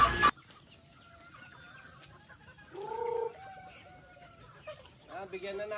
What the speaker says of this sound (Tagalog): Punta po tayo doon para maasikaso po natin yung mga sisiw po muna natin.